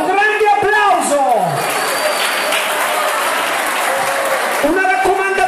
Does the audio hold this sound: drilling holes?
no